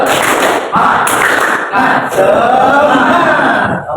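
A class performing the rhythmic Indonesian 'tepuk semangat' spirit clap, loud group claps and thumps in a patterned beat with voices chanting along in a classroom.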